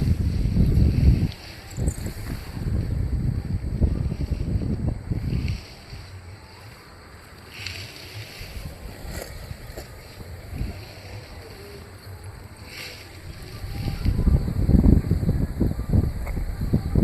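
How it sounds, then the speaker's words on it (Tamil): Strong outdoor wind during an ancestor worship ritual on open farmland roars in gusts and buffets the microphone, heaviest at the start and end with a calmer stretch in the middle. "காற்று கொஞ்சம் கூட நிற்க மாட்டேங்குது"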